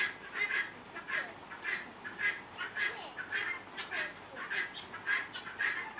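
Chickens on a poultry farm clucking and calling in a steady, repeated rhythm, several birds at moderate distance over a low background hum.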